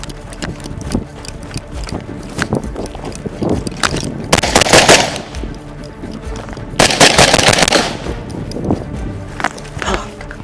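A rifle is fired in rapid bursts of loud, sharp gunshots. The shots are spread irregularly through the stretch, with heavier clusters in the middle and later on.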